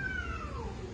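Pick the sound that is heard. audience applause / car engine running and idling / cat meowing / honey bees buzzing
cat meowing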